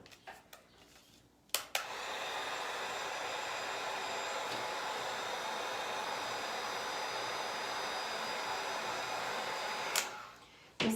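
A hair dryer blows on a painted wood craft piece, switching on abruptly with a click and then running as a steady, loud, even whoosh for several seconds before cutting off.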